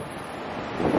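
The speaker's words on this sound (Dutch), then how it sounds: "Weer lekker die wind." Wind blows near the Eiffel Tower in Paris and buffets the microphone with a low, steady roar that swells slightly toward the end of the short stretch.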